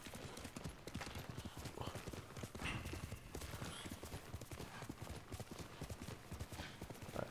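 Rapid hoofbeats of a galloping horse drum steadily throughout, with a faint whinny, in the video game Ghost of Tsushima: Director's Cut on PS5; the rhythmic clip-clop stays dense and even across the whole stretch.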